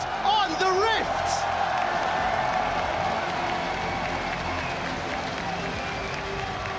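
At the 2015 League of Legends World Championship quarterfinal, a large arena crowd applauds and cheers continuously, with whoops rising early on, while an announcer talks over it.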